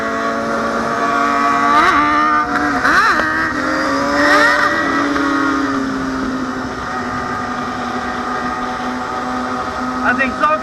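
A Honda CBR600RR sport bike engine revs hard in repeated rising and falling bursts during a wheelie attempt, loud and close, with a steadier idle drone between the bursts and people talking nearby.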